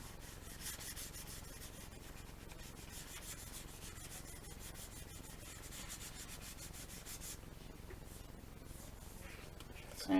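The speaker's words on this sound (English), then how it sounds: "Sand off the excess." A plastic model kit part, an AMT Klingon or Romulan D7 battle cruiser, is sanded to remove excess material, giving a steady close scratchy rubbing that runs unbroken and fairly loud for about ten seconds, with no talking.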